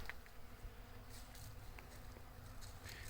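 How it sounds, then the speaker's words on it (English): Honey bees hum steadily around a hive, a dense, continuous buzz of many insects with individual bees passing closer now and then; no one speaks. "The bees are buzzing,"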